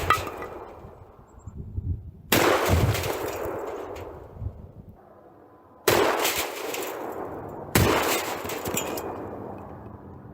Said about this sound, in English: we'll shoot this one with the Federal slugs and this one with the Score slugs and see if there's a difference